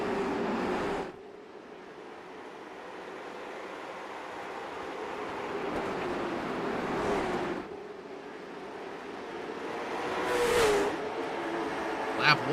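Race cars in the Lightning Chassis 150 at Hickory roar past at the start of the race, engine noise swelling and fading in several loud pass-by surges over a steady background rumble.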